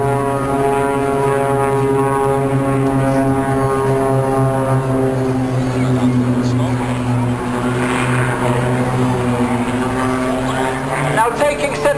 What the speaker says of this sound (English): Now watch the outside 2 aircraft snap roll away